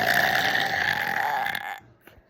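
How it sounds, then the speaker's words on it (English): A person burps once in a long, loud, drawn-out belch lasting over a second and a half, then goes quiet apart from a faint click. "I'm going to burp 50 times"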